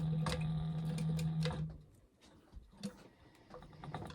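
A sewing machine runs a final edge stitch along a convertible tote bag, a steady mechanical whir with a humming motor tone for about a second and a half, then stops, leaving faint clicks and handling noises.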